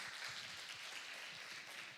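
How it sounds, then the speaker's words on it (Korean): Steady applause from a congregation at a Sunday church service in Sydney welcomes a newcomer, a dense patter of many hands clapping evenly throughout at a moderate distance. "우리 박수로 환영의 인사드립니다."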